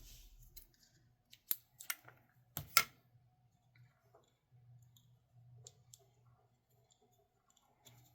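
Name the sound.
scissors cutting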